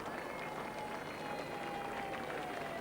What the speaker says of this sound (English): the crowd and the euphoria and the wonderful atmosphere and the welcome that the royal procession are receiving